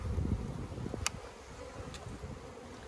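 Honey bees buzz softly around an opened beehive frame, a faint continuous hum close by with a few brief louder passes.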